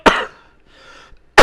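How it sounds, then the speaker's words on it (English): Single sharp human cough, close and loud, followed by a faint breath and the start of another cough. "Excuse me, I coughed."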